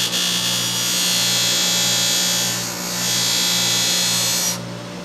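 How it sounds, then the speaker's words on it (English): A hand ice auger blade gets a light polish on its back side, producing a steady, close whirring buzz with a low hum underneath. It runs for about four and a half seconds, then cuts off abruptly. "I'm going to give it just a really light polish"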